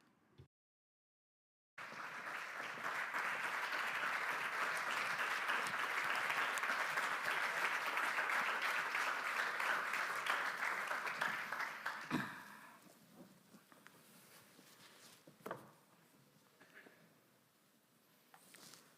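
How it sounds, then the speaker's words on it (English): A crowd applauds warmly for about ten seconds, a dense steady clatter of clapping that fades out, leaving scattered claps and quiet room noise. "We're going to welcome you with a warm round of clapping."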